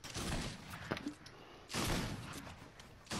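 Shotgun blasts in the Fortnite video game, a few loud broadband bursts with bursts of other gunfire around them, heard in a busy firefight.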